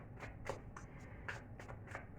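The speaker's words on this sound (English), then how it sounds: "I am shuffling these cards." A deck of tarot cards shuffled by hand, with a series of quick riffling and sliding bursts in uneven succession, close and soft over a quiet room.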